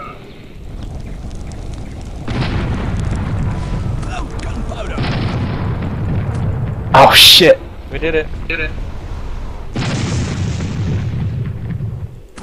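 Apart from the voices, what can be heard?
explosion in the video game Air Buccaneers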